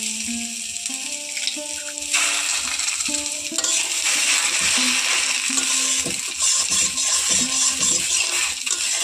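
Three eggs go into a hot pan for frying, and a loud sizzle bursts up about two seconds in and then hisses steadily, with a few clinks from the pan.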